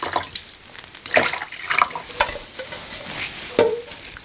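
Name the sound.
water poured into a bowl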